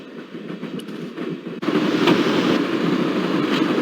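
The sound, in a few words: train running in video game Broken Sword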